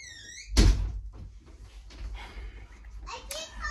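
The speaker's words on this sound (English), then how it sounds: "Close the door, please." A door is shut at home with a single loud thump, followed by a child and an adult talking quietly and faint household noises.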